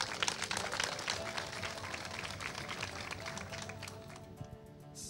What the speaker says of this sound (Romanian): Până atunci, o aplaudăm pe Andreea Gavril din Murfatlal.